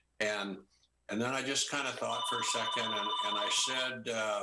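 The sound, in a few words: telephone ringing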